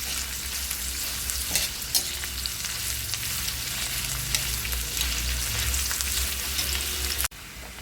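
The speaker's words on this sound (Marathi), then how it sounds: "आपला कांदा भाजत आलेला आहे, थोडासा लाल झाला" Onions browning in oil in a pan for a papdi-bean and potato curry give off a loud, steady sizzle and crackle for the whole stretch, dropping off sharply just before the end.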